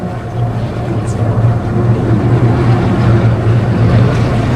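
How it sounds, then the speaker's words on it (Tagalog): Big ocean waves surge and wash around a boat at sea, a loud, continuous rushing roar with wind noise close to the listener. "Ang lalaki na ng alon, no?"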